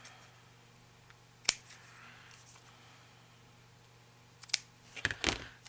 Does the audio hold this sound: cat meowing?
no